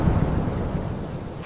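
A violent thunderstorm with rain rolls on as a deep, steady rumble of thunder under a dense wash of falling rain, loud and continuous.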